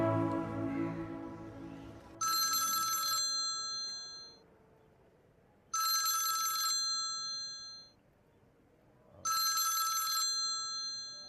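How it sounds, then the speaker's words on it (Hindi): A telephone rings three times in evenly spaced bursts of bright electronic trilling, with quiet gaps between them and a voice briefly heard at the start. "ये आपके नंबर से फोन आ रहा है।"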